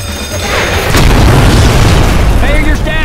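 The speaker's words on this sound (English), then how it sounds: "Nice explosion!" An explosion in the video game Left 4 Dead bursts into a loud, broad boom that rumbles on for a couple of seconds, with players talking over it.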